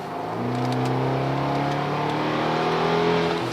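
A JB4-tuned BMW accelerates hard in gear, its engine note climbing steadily in pitch as it pulls, loud and close throughout with no talking.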